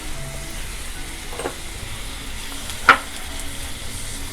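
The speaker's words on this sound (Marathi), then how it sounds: "आणि आता आपण व्यवस्थित टोमॅटो परतूया." Tomatoes frying in a pan for chicken keema, a steady low sizzle with faint stirring, one sharp clink of the spoon against the pan partway through, no talking.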